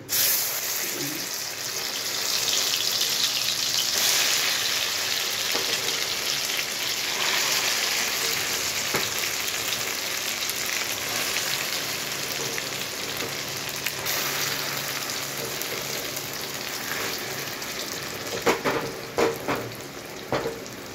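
Amla paste frying in hot ghee gives a steady, close sizzle and hiss that runs throughout, with a few sharper crackles and stirring scrapes near the end.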